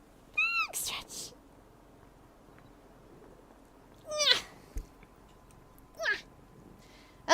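A pet cat meows in short, separate calls, two close together near the start and more a few seconds later, fairly near and clear against a quiet room.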